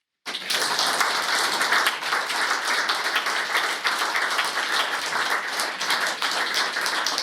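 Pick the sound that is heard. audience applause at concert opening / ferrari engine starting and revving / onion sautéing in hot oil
audience applause at concert opening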